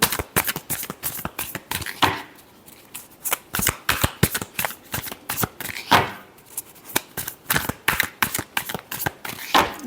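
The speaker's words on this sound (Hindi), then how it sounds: "last shuffle" Tarot cards shuffled by hand, a rapid series of crisp riffling bursts and slaps in uneven rhythm, close and clear with no talking.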